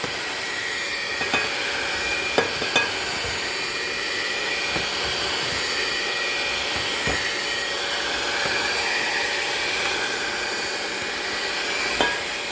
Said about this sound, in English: we're actually using the dough hooks instead of regular mixer hooks because it gets really, really sticky